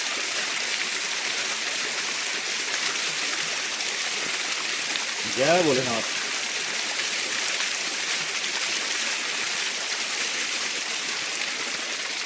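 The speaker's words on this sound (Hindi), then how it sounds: "रास्तों में हमें ऐसे झरने दिखने को मिल जाते हैं आजकल सावन में, जहाँ से कंटिन्यू पानी आता है" A roadside waterfall stream on the Kavad Yatra route in Uttarakhand during Sawan gives a steady, close rush of falling water throughout. A voice briefly calls out a chant midway.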